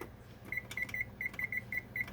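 A kitchen timer being set while baking banana cookies gives a quick run of short, sharp electronic beeps in an irregular rhythm, close by over quiet kitchen background.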